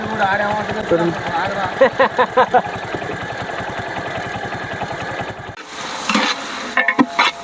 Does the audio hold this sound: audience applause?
no